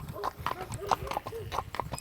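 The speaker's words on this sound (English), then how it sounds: "Do horses always come over to say hi when new people are here?" Horses at the Iroquois Steeplechase walking near visitors, with a steady clip-clop of hooves and occasional soft whinnies close by under ongoing people's talk.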